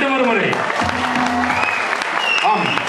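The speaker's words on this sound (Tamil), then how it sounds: "உங்கள் கரகோஷங்கள் மீண்டும் ஒரு முறை." Audience at a Tamil school stage event applauding a young girl singer, a continuous patter of clapping heard under and between loud amplified speech and tonal voices close by.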